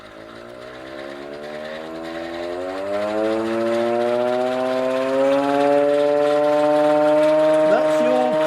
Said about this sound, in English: That's the all clear sound.